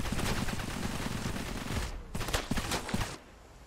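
Dense gunfire in the video game Cepheus Protocol, Pandemic Mode, with rapid overlapping bursts that carry loud and steady, then break into a few separate volleys before dropping away near the end.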